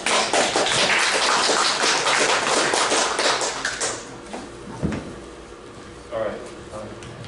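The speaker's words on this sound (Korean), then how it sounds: "네, 큰 박수 부탁드립니다." Audience applause at a cryptocurrency exchange meetup, loud dense clapping for about four seconds that thins out into a few scattered claps and room noise.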